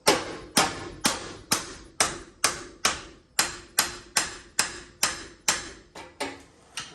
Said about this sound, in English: I'm just gonna take a hammer and give it a couple good hits